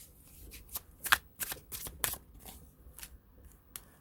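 Tarot and oracle cards being shuffled and pulled from the deck, a quiet, close series of crisp riffling and flicking bursts in an irregular rhythm, with no talking.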